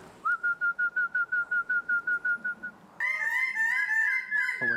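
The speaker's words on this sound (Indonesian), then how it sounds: "Now we used to whistle like this. That's the whistle. They know that the food is coming." A person whistles a rapid series of about fourteen short, even-pitched pulses to call birds of paradise, then switches to a longer, higher warbling whistle, close and clear with no talking.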